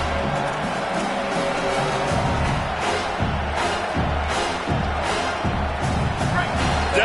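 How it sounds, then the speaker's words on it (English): A stadium crowd roars and cheers on third down in an NCAA college football video game, a steady loud swell of massed voices that keeps rising, with a commentator talking over it. "Decibels rising as the crowd gets behind this defense on third down."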